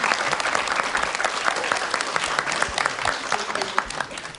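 Audience applause after a speaker's call in a Korean lecture hall, a dense steady wash of many hands clapping for several seconds, with sharper individual claps standing out near the end.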